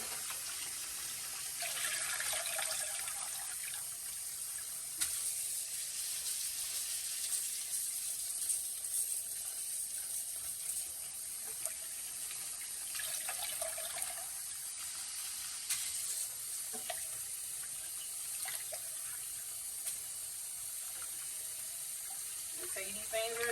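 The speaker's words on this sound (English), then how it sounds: "Make sure that water green when you wash them greens up." Steady running tap water fills a kitchen sink while greens are washed, a constant close hiss of flowing water with faint clinks and sloshing from handling underneath.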